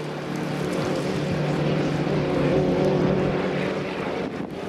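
A 1.5 litre racing hydroplane at Beauharnois taking its final turn, the engine giving a steady droning roar at a moderate distance that swells slightly and then eases, with wind noise and no talk.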